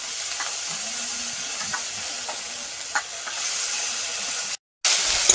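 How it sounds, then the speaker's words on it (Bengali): Raw chickpeas fry in hot oil with ginger paste, green chilli and spices, giving a steady close sizzle with faint stirring scrapes and then a brief break in the sound. "মশলার সঙ্গে ছোলাটা ভেজে নিয়েছি"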